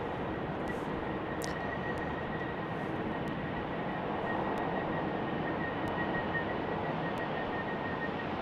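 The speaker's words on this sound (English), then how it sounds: "Here comes an A321 from Delta racing towards runway 34 right." A Delta Airbus A321 accelerates down runway 34 right at Salt Lake City airport, its broad steady engine roar heard from a distance and holding constant throughout, with no voices over it.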